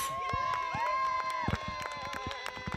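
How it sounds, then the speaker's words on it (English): Roars, screams and applause from a crowd outside at the final round of the RPM Australian Disc Golf Championships 2024, faint and distant beneath nearby talking voices. "we can hear the roars and screams and applause coming from outside"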